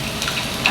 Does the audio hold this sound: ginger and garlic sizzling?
yes